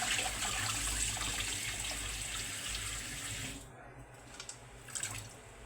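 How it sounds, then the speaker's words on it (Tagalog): Water runs in a steady, hissing stream into a pan for steaming food, then cuts off, leaving a few quiet drips and clinks. "At lalagyan natin ng kaunting tubig para steam."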